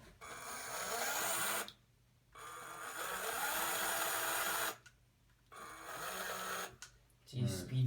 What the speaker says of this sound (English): the motor's actually moving really fast, but it just makes the rudder move very slowly